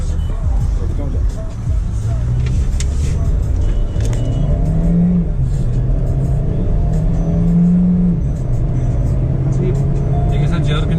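A Kia Seltos GT 1.4 GDI turbo with a DCT gearbox drives along, its engine hum rising and settling smoothly through gear changes, steady and close, with people talking over it.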